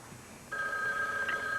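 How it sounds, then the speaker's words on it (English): A telephone bell in a 1983 television soap opera scene begins ringing partway through, a steady close trill over a faint background hiss, with no voices. "No, don't answer the phone."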